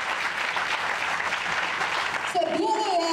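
An audience applauds at the inauguration of a school handed over to Haitian scouts, with dense steady clapping for over two seconds before a voice begins speaking over its fading tail.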